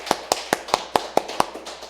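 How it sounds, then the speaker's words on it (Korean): Church congregation during a Sunday worship service clapping in unison, about eight sharp, evenly spaced claps at a brisk steady rhythm, close and fairly loud, then trailing off. "우리 한번 박수로 하나님께 영광 돌립니다."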